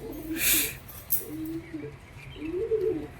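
A pair of pigeons coo in low, throaty bursts, three rolling phrases spaced across the clip, with a sharper chirping sound near the start.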